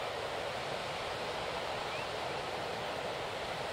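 Ocean surf at Rest Bay in the early morning, a continuous broadband wash of closely spaced breaking waves with breeze, steady and fairly loud throughout.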